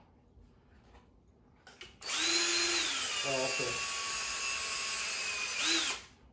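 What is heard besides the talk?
drilling through a hole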